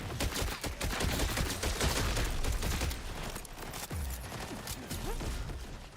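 Rapid gunfire from a Jakobs weapon in Borderlands 4, a steady stream of sharp shots with ricochets mixed into busy combat noise, fairly close and continuous throughout.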